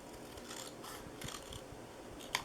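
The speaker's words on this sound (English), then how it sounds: "So I'm just going to cut up here." Paper being cut with scissors for a Halloween cat box makes soft, close rasping snips over a low steady background, with one brief sharper click near the end.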